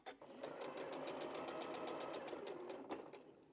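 A sewing machine stitching quilt block pieces, a fast steady run of needle clatter close up that starts, holds for about three seconds, and stops, with faint talk at the edges.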